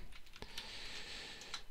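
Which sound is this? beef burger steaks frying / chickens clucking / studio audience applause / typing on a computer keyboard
typing on a computer keyboard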